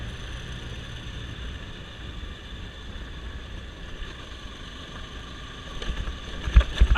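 Steady broadband road and wind rumble from a Bajaj Pulsar AS200 motorcycle being ridden past mangroves between Airoli and Mulund, a continuous droning ride noise with a few louder bumps and thumps near the end.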